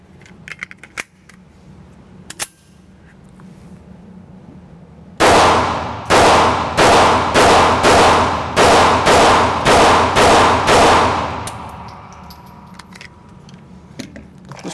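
A Ruger LCP MAX pistol fires ten rounds in a quick, loud, close string of sharp gunshots about half a second apart, each with a short ringing decay, preceded by faint metallic handling clicks.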